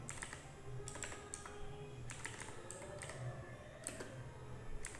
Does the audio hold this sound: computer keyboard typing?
yes